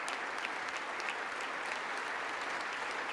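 An audience claps steadily throughout, a dense and even wash of applause at moderate loudness with no voices standing out.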